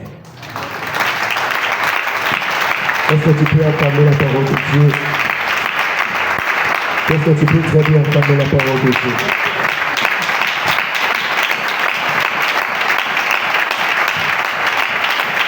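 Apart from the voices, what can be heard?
congregation applauding the word of God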